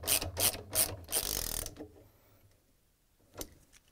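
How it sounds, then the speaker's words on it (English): A 13 mm socket wrench tightens a bolt on a Samsung washer spider arm (DC97-15877B), giving several rapid, loud ratcheting bursts up close, then near quiet broken by one last short click. "Then we're going to use the 13 millimeter socket wrench"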